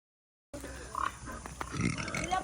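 Pigs in a piggery grunt and squeal close by after a brief silence, short irregular calls over a busy barn background.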